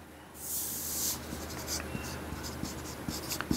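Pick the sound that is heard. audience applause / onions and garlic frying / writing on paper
writing on paper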